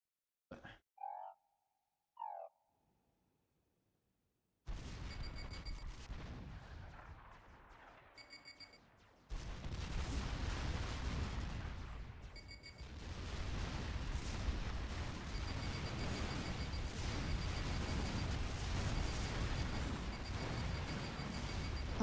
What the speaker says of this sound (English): I'm not a fan of the artillery